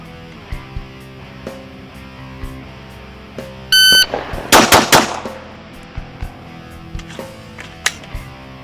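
A shot timer's electronic beep is followed by a rapid string of loud pistol shots from a Glock 19 or HK VP9, with fainter single shots popping on either side.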